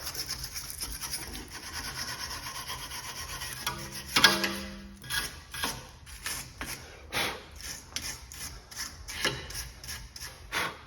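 The brake pad mounting surface on a VW Golf front caliper is scrubbed clean, producing a run of short, close scratchy brushing strokes in irregular bursts, with one sharper metallic knock partway through and no talking.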